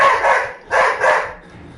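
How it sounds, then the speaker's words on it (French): A dog barks in a short burst of loud, close woofs, two or three clustered barks with a brief pause between, heard alone without talk. "C'est mon chien, il aboie."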